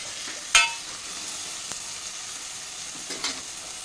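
Ginger garlic paste being stirred into vegetables frying in a pan, a steady soft sizzle with a sharp scrape or clatter near the start and another light knock toward the end.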